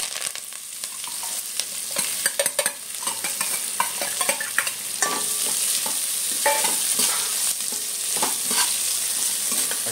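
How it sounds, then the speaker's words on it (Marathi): Mustard seeds splutter and crackle in hot oil with onion and curry leaves for a Malvani-style val bhaji, a dense run of sharp pops over a steady sizzle that grows fuller midway, close and fairly loud with no talking. "नंतर मग आपण घालून घेऊया मोहरी, थोडीशी तडकू द्यायची."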